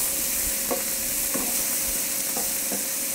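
Garlic and shallot sizzle in a pan over rendered pancetta, a constant frying hiss broken by several soft, regularly spaced scrapes of stirring.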